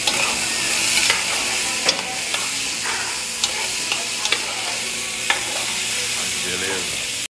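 Steady sizzling of onion and peppers frying in olive oil in a hot pan, with occasional scrapes and clinks of a utensil stirring, close and continuous.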